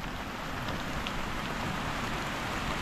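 Steady rain pours down outdoors in a dense, even hiss of drops on surfaces, constant and moderately loud with no voices.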